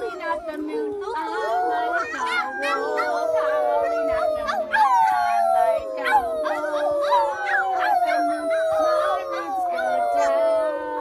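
Children imitate a wolf howling at the moon during an outdoor finger-puppet activity, with long, sliding, overlapping howls sung continuously and loudly at close range.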